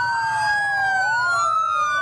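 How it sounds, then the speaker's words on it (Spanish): Sirens wailing steadily as the coffin of the El Oro vice-prefect arrives, two rising and falling tones overlapping, loud and close, with a vehicle rumbling underneath. "El sonido de las sirenas anunciaba la llegada del féretro de la viceprefecta de El Oro"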